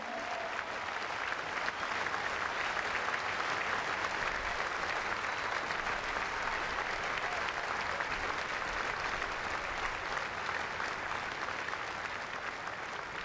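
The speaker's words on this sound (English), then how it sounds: "how about one more big round of applause" Sustained applause from a large crowd at a Pittsburgh baseball game, following a birthday tribute; dense, even clapping rolls on steadily for many seconds, somewhat distant and alone without speech.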